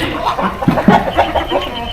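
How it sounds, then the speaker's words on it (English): Chickens clucking near ducks in a rice paddy area of Sapa, Vietnam, with several short close clucks and soft background noise, no voices heard. "Oh, there's chickens and ducks in there."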